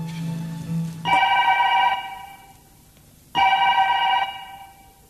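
An electronic telephone ringtone sounds twice in long bursts separated by a pause of quiet, clear and fairly close, with no voices over it.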